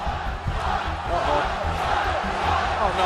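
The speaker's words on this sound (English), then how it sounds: "The incensed crowd loudly chanted" A wrestling arena crowd loudly chanting in anger fills the space with a dense, continuous roar of many voices, rhythmic swells of shouting holding steady throughout.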